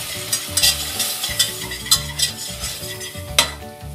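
A spoon stirs flour into melted butter in a saucepan to make a béchamel roux, giving a steady low sizzle broken by repeated scraping strokes against the pan, close up with no voices.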